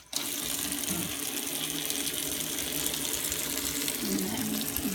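A tap runs steadily at a sink while water is given to dogs, a constant close splashing hiss that fills the whole stretch without pause.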